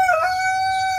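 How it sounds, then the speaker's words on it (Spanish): A rooster crows nearby, a single loud, drawn-out call with clear tonal harmonics lasting about a second, heard alone without talking. "disculpen los gallos"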